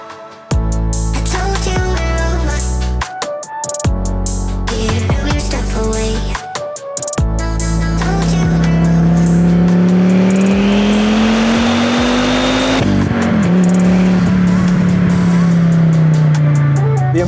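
A Fiat Coupe 20-valve turbo pulls away and accelerates hard, its engine note rising steadily and loud from the cabin, with a brief dip at a gear change before climbing again; earlier moments carry door and handling noises and some talk.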